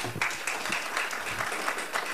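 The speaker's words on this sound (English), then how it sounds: "would like to ask you to withhold on the clapping and applause" Audience members at a school board meeting clap in a brief patter of close, irregular hand claps.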